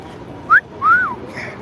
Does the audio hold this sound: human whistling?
yes